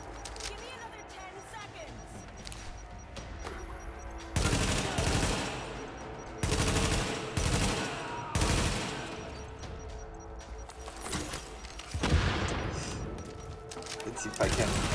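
Machine gun fire in The Division shooter game, with loud bursts of automatic gunfire breaking out repeatedly over steady game ambience, while a voice talks over parts of the action.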